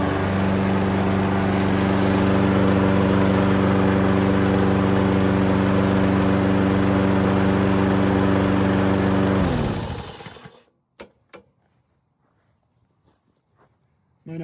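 A 1990s MTD lawn mower engine runs with a loud, steady drone close by. It holds constant for about ten seconds, then winds down and cuts off, leaving a few faint knocks and footsteps.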